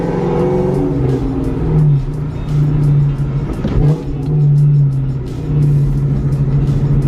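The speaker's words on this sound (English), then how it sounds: "I'm pretty positive y'all can hear the exhaust note 10 times easier on that one." Car exhaust note during a rev-match downshift, a loud, close engine drone whose pitch swells and dips with brief blips of revving between gears, no voices over it.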